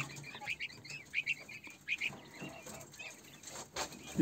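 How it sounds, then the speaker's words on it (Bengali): Quail in cages on a quail farm, giving scattered high chirps and short calls at moderate distance, with some rustling and faint voices in the background. "আমরা এসে পড়লাম কোয়েল পাখির খামারে।"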